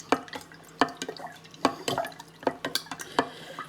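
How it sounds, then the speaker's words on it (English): Spoon stirring water kefir in a glass jar, producing repeated sharp clinks against the glass roughly every half second with sloshing liquid in between, close and clear with no talking. "I will just give this a good stir"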